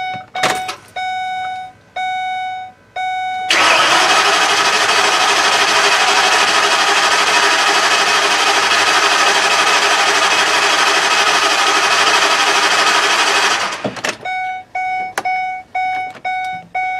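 A 2010 ambulance engine with a leak-plagued history cranks on its starter for about ten seconds, a loud steady churning roar, after chime-like beeps; it then cuts off and the repeating beeps return, all close by with no talk.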